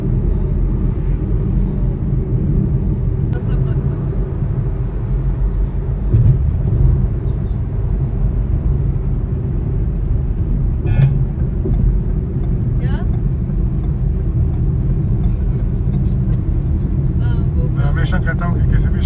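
Bangalore city road traffic makes a constant low rumble of engines and tyres for nearly twenty seconds, with occasional brief sharper sounds and voices in the background.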